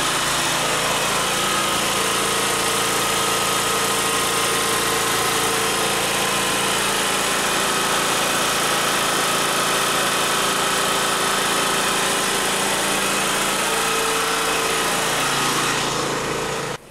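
A gasoline generator engine runs loud and steady up close, a constant droning, buzzing roar with mechanical vibration that holds unchanged for the full stretch with no talk.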